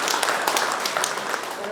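Audience applause at a Korean Senior Citizens Association chairman inauguration ceremony, a steady dense patter of many hands clapping throughout without a break, moderately loud and slightly roomy.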